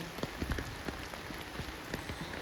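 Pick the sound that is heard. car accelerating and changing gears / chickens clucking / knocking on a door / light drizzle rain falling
light drizzle rain falling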